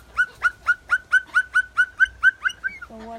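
A parrot whistles a rapid run of about eleven bright, rising notes in steady rhythm, close and clear, ending with a brief lower tone, outdoors in a garden in Key West.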